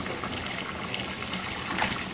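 Water gushes steadily into a 60 to 70 gallon hydro tub, a loud, continuous rushing fill heard close with no talking.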